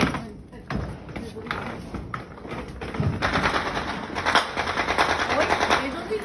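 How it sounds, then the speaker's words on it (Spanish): Rockets and firecrackers bursting at New Year in Mexico, a rapid, irregular crackle of pops and bangs at a steady loudness, with people talking underneath. "Son cohetes."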